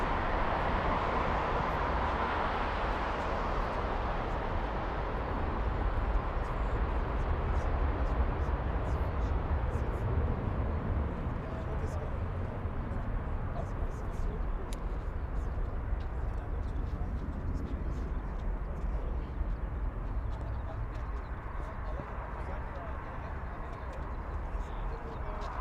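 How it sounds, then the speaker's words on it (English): A Lufthansa Airbus A321 airliner passes at Frankfurt Airport, making a steady, broad jet roar that fills the whole stretch and eases slightly toward the end, with no clear voices. "there goes the Lufthansa"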